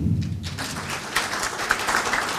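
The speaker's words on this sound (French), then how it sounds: "Applaudissez Mohamed Amin." Scattered audience applause at a French-language AMIC 2013 gathering on support for cancer patients, moderately loud and diffuse, with some scattered taps rising above the wash of claps.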